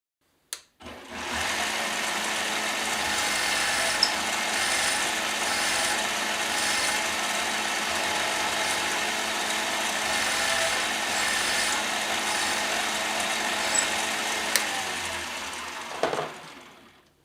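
A .50 caliber bullet shell being cut by a machine, giving a steady, loud, high-pitched mechanical whir that runs continuously for about fifteen seconds before stopping abruptly, with no voices.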